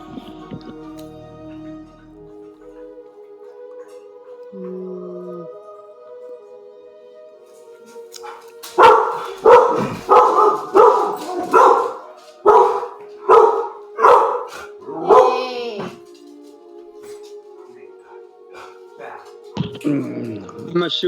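A Catahoula and a Husky bark in a rapid series of about ten loud, close barks, followed by a drawn-out howl-like yowl; quieter background sounds and some talk come before and after.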